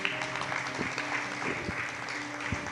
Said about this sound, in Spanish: Denle un aplauso a Dios nuevamente esta noche